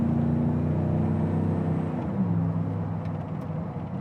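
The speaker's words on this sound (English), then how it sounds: "Dual exhaust sounds good." Lifted Chevrolet Silverado pickup on bigger wheels idling through its dual exhaust, a steady low rumble that stays close and fairly loud throughout, with a slight dip in the second half.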